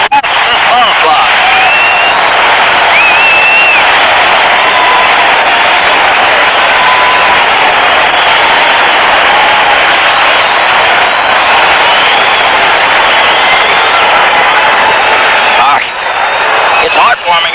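A Boston Celtics basketball crowd roars continuously in the arena, a loud, dense wall of cheering that holds steady and dips briefly near the end, with a broadcaster's voice partly buried beneath.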